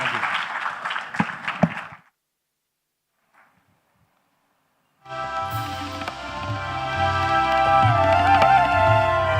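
An audience at a summit on India's future breaks into applause, a short burst of clapping that stops, then after a silence music starts.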